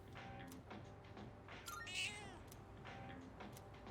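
A cat meows in the Persona 3 Reload video game, a few short, soft mews heard faintly over quiet background game audio.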